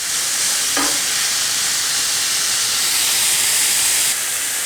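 Half-fat minced meat fries in its own fat in a pan with no added oil while being mashed, giving a loud, steady close-up hiss and sizzle with a short scraping stir early on.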